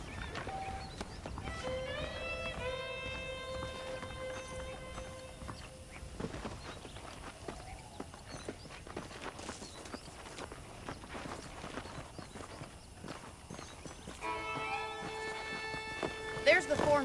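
Rhythmic clip-clop of horse hooves trotting in the video game Red Dead Redemption, with a synthetic quality, under background music and occasional voices.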